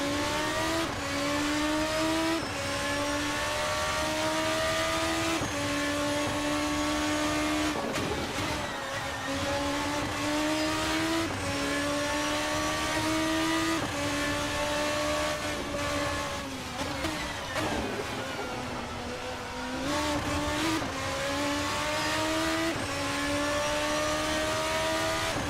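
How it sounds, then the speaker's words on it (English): A high-revving V8 engine of a Formula RSS 2 car in a racing video game, screaming loudly and continuously, rising through the gears with brief dips on downshifts and lifts. "I love a high-revving V8 engine."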